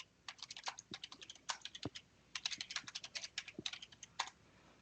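Keys clatter on a computer keyboard in quick irregular bursts of sharp clicks, close and crisp, with short pauses between words and a louder tap or two near the end.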